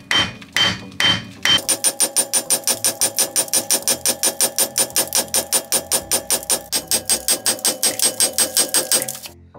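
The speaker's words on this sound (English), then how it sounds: "I think we'll just try tapping it with a hammer." A hammer taps a long pin out of a Porsche 928, a loud, steady run of quick metallic blows at an even rhythm, close up, after a few separate knocks at the start.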